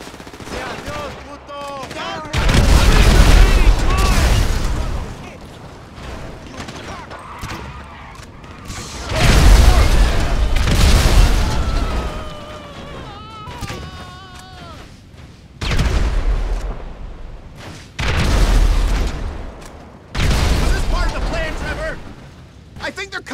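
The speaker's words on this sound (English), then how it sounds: "Grenade launcher." Grenade launcher blasts and gunfire in the video game GTA 5, with loud booming bursts recurring every few seconds over ongoing game sounds and a voice.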